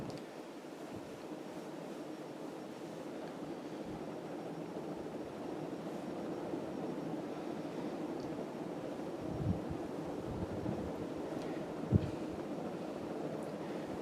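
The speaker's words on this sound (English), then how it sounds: "this fan runs very smoothly, and it's blowing a ton of air" Brown Fasco parlour fan running on its high pull-chain setting, giving a steady, smooth whooshing rush of moving air that holds even throughout, with no voices.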